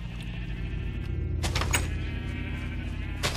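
A sheep in the video game Minecraft gives a couple of short bleats over a quiet, steady background hum.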